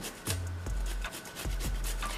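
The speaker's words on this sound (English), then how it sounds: "I'm also going to take my turmeric and grate that in" Fresh turmeric root rasped over a grater into a pot for tea, four or five distinct rubbing scrapes spaced out in an uneven rhythm, close and fairly quiet with no talk.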